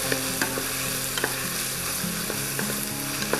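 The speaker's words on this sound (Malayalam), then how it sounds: "ഒനിയൻ ഇട്ട ശേഷം നമുക്ക് നന്നായിട്ട് ഇതൊന്ന് മിക്സ് ചെയ്തുകൊണ്ടിരിക്കാം" Chopped onions sizzle steadily in hot oil for chicken mandi, a dense, close frying hiss broken by the faint scrape and clink of stirring.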